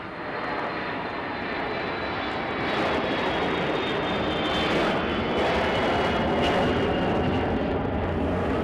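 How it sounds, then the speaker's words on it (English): The engines of a Boeing 707 surveillance plane, a NATO early-warning aircraft, roar steadily from inside the cabin just before takeoff, a loud, continuous drone that swells slightly partway through. "This flight's about to take off and we're going to be on it."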